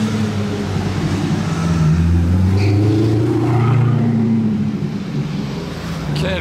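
A Porsche GT4 RS with blue wheels drives through Monaco streets, its engine note swelling as it approaches and passes close by with a loud, throaty rumble, then easing off as it moves away.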